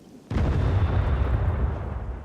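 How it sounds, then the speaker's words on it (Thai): A sudden deep grenade explosion in the video game SCUM bursts in at once and rumbles on loudly with a long, noisy, crackling tail that barely fades. "จะโยนระเบิดแล้วนะ"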